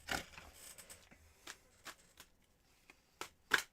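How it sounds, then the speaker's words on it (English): Tarot cards being shuffled by hand in a quiet room, a run of soft riffling bursts and papery slaps spaced irregularly, fairly faint and close, with no talking. "I think that's a good cleansing shuffle for you"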